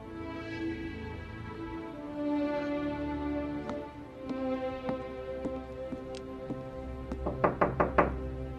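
A series of knocks on a door in a home, irregular at first and then a quick, louder cluster of raps near the end, over a low background hum with no talking.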